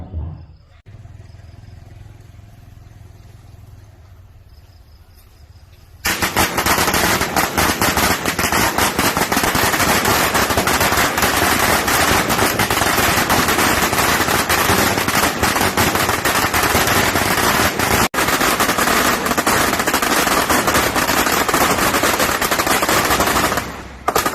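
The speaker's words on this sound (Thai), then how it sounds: "ทำบุญแล้วก็ได้จุดประทัดขอพรครับ" Strings of firecrackers set off at a Thai temple for blessings, bursting after a quieter opening into a long, loud, dense crackling barrage that runs almost unbroken for the rest of the clip.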